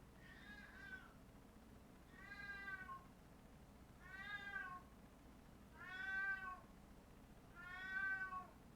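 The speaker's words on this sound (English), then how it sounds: "don't worry about the cat. She's just meowing so loud" A cat gives five loud, drawn-out meows at a steady pace, roughly two seconds apart, each a wavering tonal cry that grows slightly louder toward the end, heard alone in a quiet room.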